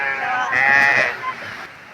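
A single loud sheep bleat, close by, wavering and drawn out for about a second before trailing off.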